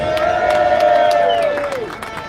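A crowd at a Britain First demonstration in Birmingham cheers and claps loudly, with whoops rising above the applause and a sustained shouted or sung tone running through the noise.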